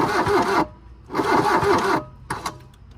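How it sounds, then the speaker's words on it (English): A 1980 VW Caddy engine cranks in two long starter bursts with rhythmic chugging, separated by a pause, then a short sputtering attempt that fails to catch. "go ahead and turn the engine"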